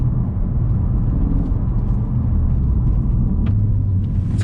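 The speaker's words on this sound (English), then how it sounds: "Although the engine in this isn't anything particularly exotic, it does have an angry growl about it." A Ford Focus RS with a manual gearbox growls on a farm track, its engine a loud, continuous low rumble from inside the car with no talk over it.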